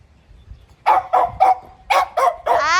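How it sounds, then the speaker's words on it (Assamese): A dog barks five times in quick succession near a home surrounded by construction work, loud and close, the last bark stretching into a higher whining yelp. "এইটো শুনক আপোনালোকে, কেনেকুৱা ভুকি আছে আৰু কিমান আগলৈ আহিছে।"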